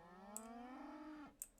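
Cows in the railway simulator Train Sim World give a single long, rising, drawn-out moo that ends abruptly, faint and fairly distant, with a short click just before and just after.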